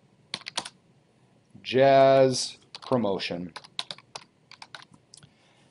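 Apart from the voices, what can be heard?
slow typing on a computer keyboard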